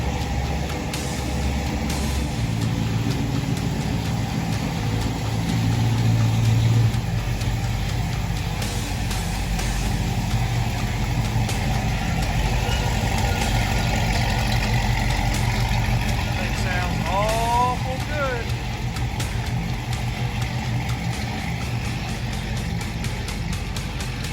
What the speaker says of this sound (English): The big block sounds really good.